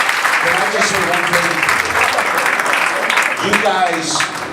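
A sales conference audience applauds at length, a steady wash of clapping that stays loud across the whole stretch, with a voice speaking over it.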